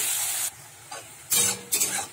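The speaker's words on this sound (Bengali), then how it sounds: "পেঁয়াজটা একটু লাল করে ভেজে নেবো।" Chopped onion frying in oil after cumin and bay leaf, for a fish curry: short bursts of sizzling hiss, loud and close, separated by quieter gaps as the pan is stirred.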